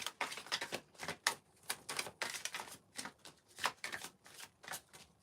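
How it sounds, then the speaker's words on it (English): Tarot cards being shuffled and drawn during a live reading, heard as repeated crisp riffling bursts and flicks in an uneven rhythm, close and fairly loud, with no voice over them. "have a card for Sanch, please"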